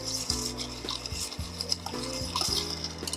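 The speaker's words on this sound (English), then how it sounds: "Hit with a little bit of ice and we'll stir this up." An old fashioned cocktail stirred with ice: rapid rhythmic clinking and rattling of ice cubes against a glass with a bar spoon, close and continuous, with no voices.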